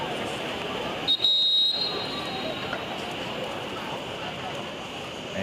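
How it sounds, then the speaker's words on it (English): A referee's whistle at a men's college soccer match, Bucknell versus North Carolina, sounding one short, sharp blast that rises above the crowd noise and commentary. "they blow the whistle."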